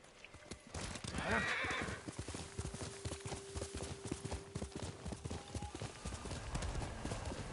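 Kage, a horse in the video game Ghost of Tsushima, walks with a steady clip-clop of hooves and a loud whinny near the start, under faint game ambience.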